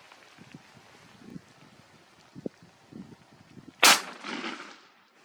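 A single shotgun blast at a turkey during a spring hunt in New Brunswick, sharp and loud against quiet outdoor ambience. Faint rustling comes before it and a short echoing tail follows.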